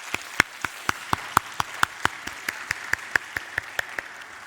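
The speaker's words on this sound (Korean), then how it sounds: "우리 다시 한번 우리 오케스트라와 찬양대 박수 한번 드릴까요?" Evenly paced clapping at a steady beat, crisp and moderately loud, given in a church service to honour the orchestra and choir.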